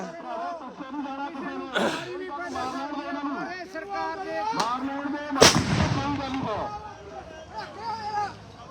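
Tear gas shells fired by police at protesting farmers, with several sharp booming reports over a steady hubbub of crowd voices and chatter, the loudest blast coming partway through.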